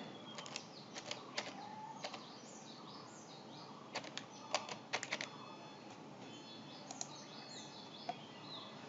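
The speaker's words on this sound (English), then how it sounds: "Just type the password." Faint, scattered keystrokes on a computer keyboard as a password is entered to unlock a Windows hard drive. Light clicks come in small irregular clusters over a steady background hiss, with no voices.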